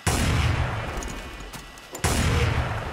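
Two heavy, booming sniper rifle shots in a modded video game, spaced about two seconds apart, each with a broad echoing tail, plus a faint shorter crack between them.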